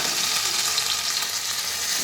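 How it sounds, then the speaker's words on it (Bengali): Okra (bhindi) frying in oil in a kadai gives off a steady, close sizzle with a bright crackling hiss that holds evenly throughout. "দিয়ে আবার একবার কড়াতে দিয়ে দিয়েছি ভেন্ডি"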